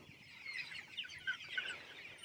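Chickens on a pasture farm cluck and chirp softly in a scattered, uneven chorus, faint and somewhat distant with no talk.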